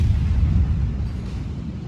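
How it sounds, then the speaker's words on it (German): Heavy naval gunfire from the German cruiser Graf Spee in World of Warships, a deep, loud rumbling boom that rolls and slowly decays over a couple of seconds with no speech. "Und jetzt fange ich auch an zu schießen."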